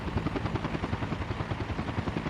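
A helicopter in Workers & Resources: Soviet Republic gives off a steady, rapid thudding rotor chop. It runs fairly loud and unbroken through the short stretch, with no voices.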